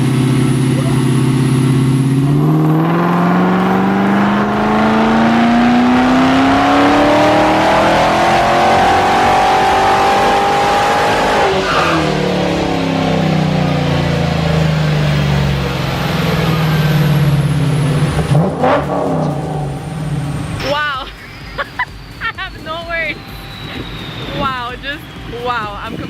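A supercar engine on a dyno revs up in a long rising pull that holds, drops, then surges again, loud and close, before cutting off to quieter mechanical noise with some talk near the end.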